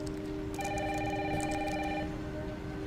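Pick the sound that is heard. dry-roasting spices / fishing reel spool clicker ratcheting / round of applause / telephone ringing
telephone ringing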